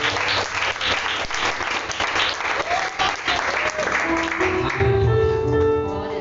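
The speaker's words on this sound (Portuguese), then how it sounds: "Dê uma salva de palmas para Jesus." A church congregation claps in a loud sustained burst of applause, with voices calling out over the clapping near the end.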